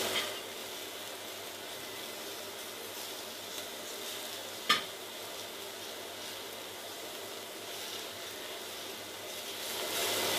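Onions sizzle on a hot plancha with a steady, soft crackling hiss, broken once midway by a sharp click of a utensil, for a burger being cooked.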